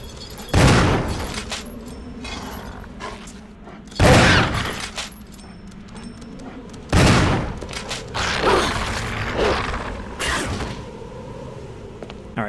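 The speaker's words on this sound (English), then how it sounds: "we're gonna take out the shotgun" A shotgun fires at attacking dogs in the 2002 Resident Evil game, three loud booming blasts spaced a few seconds apart, each followed by pumping and clattering noises and scuffling sounds between shots.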